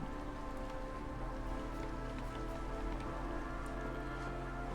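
Steady rain patters in the Against the Storm video game, a dense, even hiss of drops on surfaces that stays constant throughout at a soft, low level, with no speech.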